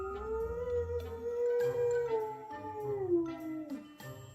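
A dog howls in one long, wavering note that rises and falls, close and clear, with a few brief yips as it trails off.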